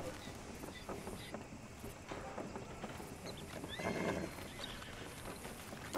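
A video game horse whinnies and snorts while its hooves clop nearby, with a louder neigh swelling near the end, all fairly faint with only light talk.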